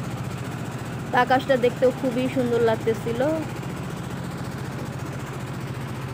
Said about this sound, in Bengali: ট্রলার ছেড়ে দিয়েছে